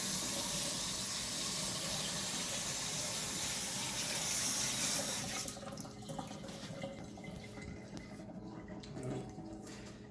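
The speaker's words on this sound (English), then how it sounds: "run it under the sink just to rinse it" Water runs steadily from a sink tap as bacon is rinsed under it, a loud continuous gush that softens partway through as the flow splashes over the meat, with no talk.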